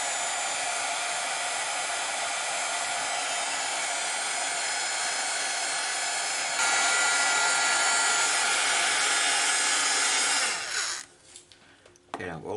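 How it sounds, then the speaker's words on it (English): Heat gun blowing hot air while making tiny cane hoop earrings and pendants, a loud steady roaring hiss that holds for about ten seconds, then cuts off abruptly into near quiet. "we'll let my heat gun cool down"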